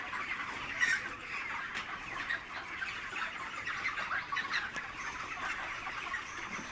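A crowd of chickens clucks and squawks steadily inside a poultry shed housing about 3000 birds, a dense continuous chorus with occasional louder calls and no voices.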